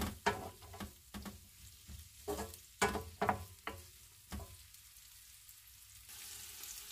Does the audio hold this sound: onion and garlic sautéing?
yes